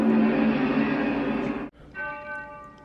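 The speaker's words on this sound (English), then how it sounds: "Okay, so we're hearing church bells" Church bells ring loudly with a rich, sustained tone, cutting off abruptly before a softer bell peal resumes.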